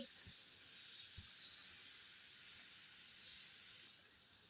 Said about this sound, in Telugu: నేను ఈ విధంగా పెన్నంలో కాస్త వీటిని వేయించుతున్నానండి